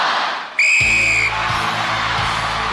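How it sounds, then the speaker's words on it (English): A single sharp referee's whistle blast starts an International Gladiators event, cutting through loud crowd noise, then a heavy rumble continues underneath. "you will go on my whistle"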